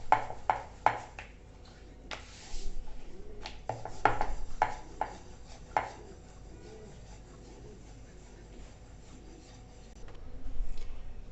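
A rolling pin works paneer paratha dough out thin on a board, giving soft rubbing passes broken by intermittent light taps and knocks, close by, with no talking.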